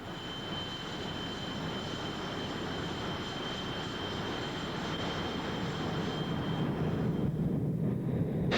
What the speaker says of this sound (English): The F-18 is just an outstanding airplane.